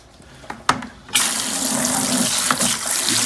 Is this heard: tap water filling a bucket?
yes